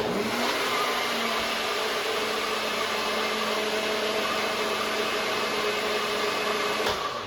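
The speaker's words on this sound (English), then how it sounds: "you can just mix it and finish blending" A kitchen blender whirs steadily as it purées cilantro chimichurri herb sauce, a loud, even motor drone held close and constant before cutting off near the end, with no voices.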